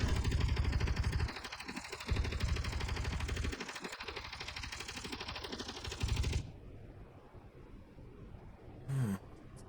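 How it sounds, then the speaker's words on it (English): Interior turret gunfire in the space game Space Engineers, a dense, rapid rattling burst that runs steadily for several seconds and then cuts off abruptly, leaving quieter background hum and one brief late impact. "Oh, some interior turret fire."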